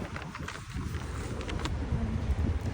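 Strong wind buffets the microphone outdoors in a park, a steady low rumbling roar with gusty swells throughout, close and fairly loud, with no speech.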